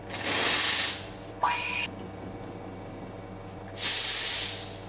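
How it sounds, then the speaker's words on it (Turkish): Espresso machine steam wand frothing milk for a salted caramel latte, hissing in three bursts, two long loud ones and a short one, with quiet pauses between and no talking. "Kahvemiz hazır olurken ben sütümü köpürteceğim."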